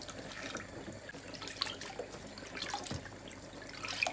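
Water sloshing and splashing in a basin as it is scooped with a kitchen strainer while preparing Haitian lalo, with steady close wet swishes and small drips throughout, no talking.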